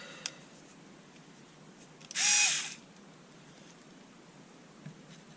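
A repaired Panasonic EY503 cordless screwdriver gives one short, whining motor burst of under a second while driving a screw, set against quiet background hiss with faint clicks before and after.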